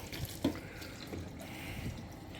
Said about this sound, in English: I've connected my hose pipe to my tap, turning it on, steaming hot water coming out here